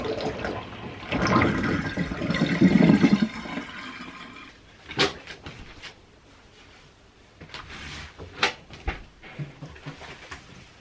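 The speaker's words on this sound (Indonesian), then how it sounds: "buka lagi airnya, dibuang" Water drains out of a washer or tub while cloth diapers are washed, a rushing, gurgling pour for the first few seconds that then gives way to scattered clicks, knocks and handling sounds.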